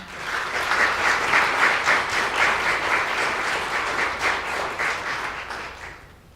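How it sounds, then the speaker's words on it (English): Audience applause at a University of California panel event on diversity and inclusivity, a steady dense clapping from a sizeable crowd that holds for several seconds and fades out at the end. "Let's give him a round of applause."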